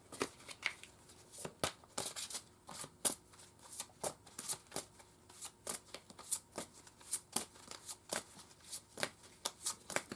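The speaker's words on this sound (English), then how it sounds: "now we're going to pull from the Oracle cards" Oracle cards are shuffled in quick, crisp riffles, the dry snapping bursts repeating in a steady rhythm throughout at a quiet, close level.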